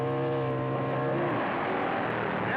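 Double-engine drag racing motorcycles, a Harley and a Triumph, roar at the 1974 NHRA U.S. Nationals, a loud, sustained droning engine note with steady harmonic tones that shift slightly in pitch as they run.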